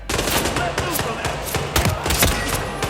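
Rapid SMG gunfire in the video game Hitman Freelancer, with loud bursts of shots and sharp cracks firing in quick, uneven succession and no voices.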